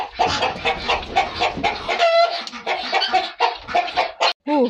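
Guinea fowl call repeatedly nearby in harsh, rhythmic cackling bursts, several birds overlapping in a loud, busy chorus.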